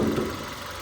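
The engine of a used Kia Ceed with 112,000 km on it idles with the hood open, a steady, even low hum and rumble heard close by with no talk over it.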